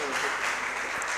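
Brief burst of steady applause from a congregation at a Christian physicians' conference, acclaiming the Lord for a professor's life, dense and fairly close with a faint voice mixed in.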